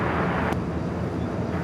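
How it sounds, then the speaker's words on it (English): A Korean Air Cargo Boeing 777 takes off from runway 24 left at LAX, heard as a broad, distant jet roar with a steady rumbling wash across the short moment. "we've seen a Korean Air Cargo 777 taking off 24 left"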